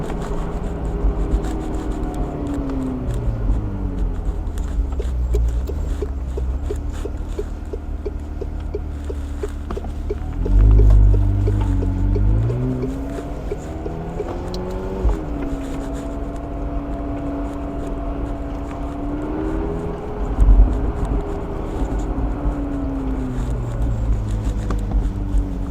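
A McLaren 720S Spider supercar engine droning and rising in pitch as it accelerates, heard from inside the cabin, with a steady hum, a couple of revving surges and louder low thumps.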